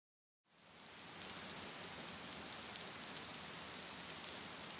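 Rain falls as ambient sound in a sleep story, starting abruptly after a moment of silence and then hissing as a dense, even, soft wash with no voices.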